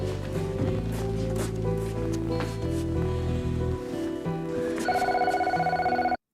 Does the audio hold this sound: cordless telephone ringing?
yes